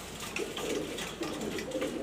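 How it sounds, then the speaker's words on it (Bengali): A female grizzle pigeon coos softly at close range, giving a few low, throaty, rolling calls in quick succession against a quiet background. "এটা মাদি কবুতর"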